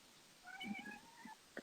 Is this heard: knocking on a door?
no